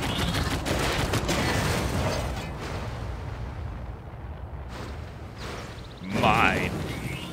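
Civilization 6 gunfire and battle rumble play as a dense, continuous roar of volleys and booms in a Germany campaign, with a louder burst near the end and a voice speaking over it.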